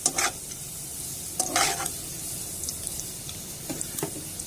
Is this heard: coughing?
no